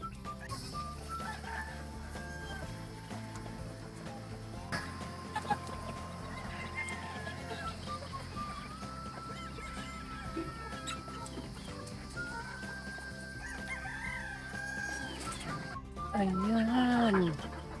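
Pullets and brood hens settle in their coop in a range area, with soft clucking throughout and a loud, close rooster crow near the end.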